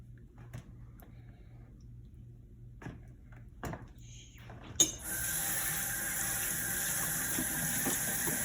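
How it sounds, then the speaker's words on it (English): Cold tap water runs steadily over a pumpkin at close range, a continuous hiss that switches on partway through after a few small clicks and taps. "Running it under the cold water helps."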